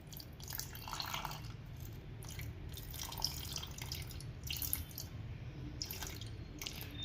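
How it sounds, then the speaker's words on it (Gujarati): Water trickles and drips in short splashes into a bowl of flour, quiet and close, with soft wet squishing in between. "આપણે 160 ગ્રામ આગળ પહેલાં પાણી લઈએ છીએ"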